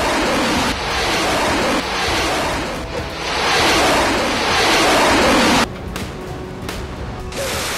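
Black Sea waves breaking and washing in a steady surging roar with gusty wind buffeting the microphone, loud and close, the rush swelling and easing before a sudden drop to quieter surf.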